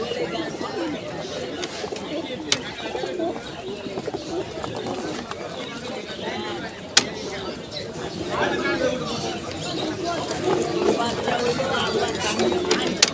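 Giribaz pigeons coo and flutter steadily at a crowded weekly pigeon market in Fatullah, Narayanganj, with constant chatter from buyers and sellers mixed in throughout.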